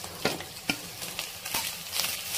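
Grated fresh coconut with green chillies and curry leaves frying in a pan for coconut rice, a steady close sizzle broken by several sharp stirring scrapes, with no talking.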